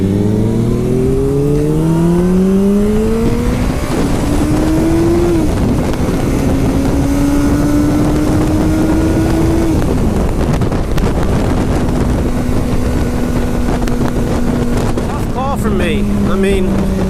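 A Ducati 1199 Panigale S motorcycle engine revs hard and accelerates through rising and shifting gears, buried under heavy, constant wind buffeting on the microphone during a ride.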